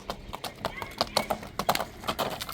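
A young horse foal being walked out, its hooves clip-clopping in a quick, uneven run of close knocks while people talk over and around them.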